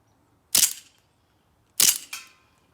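Two sharp CO2 BB gun shots fired at a can outdoors, spaced about a second apart, the second followed closely by a fainter impact or echo; no talking.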